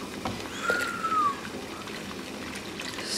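Cochineal dye pours into a pot of boiling water for a natural tie-dye vat, a soft, close trickle and splash over a steady background bubble.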